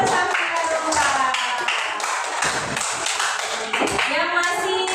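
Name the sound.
classroom children clapping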